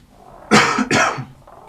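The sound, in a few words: cough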